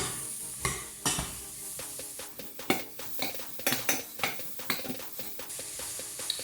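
Onions are cooked down in a pan over medium heat, with a steady sizzle under repeated clinks and scrapes of a utensil stirring against the pan, close and fairly quiet with no talking.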